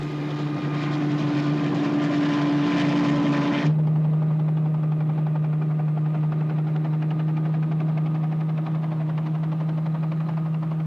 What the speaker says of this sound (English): In the reconnaissance helicopter, pilot Bob McKeegan and Philippe Cousteau